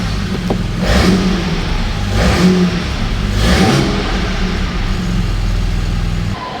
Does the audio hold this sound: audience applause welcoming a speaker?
no